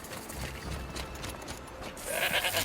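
A sheep or goat bleats in the video game Horizon Zero Dawn: The Frozen Wilds, a short nasal cry rising at the end over game ambience and soft footsteps.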